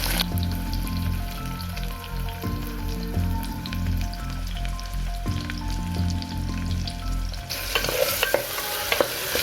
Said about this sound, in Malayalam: ഇനി നമുക്ക് ഉള്ളിയും കൂടി അങ്ങോട്ട് ഇടാം.